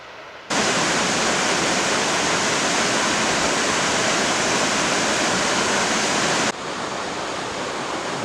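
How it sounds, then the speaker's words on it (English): Rushing water roars in a steady, dense hiss, like a waterfall heard up close, cutting off slightly before continuing more softly. "there's the waterfalls"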